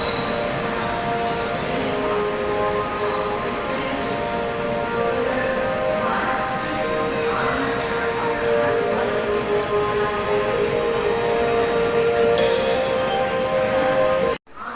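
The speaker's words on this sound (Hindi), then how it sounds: "तो फिलहाल हमारी ट्रेन का डिपार्चर हो गया है 6:26 पर।" An Indian intercity express running from Gwalior toward Bhopal pulls away, its wheels squealing loudly against the rails under a steady rolling rumble that continues throughout, close and sustained.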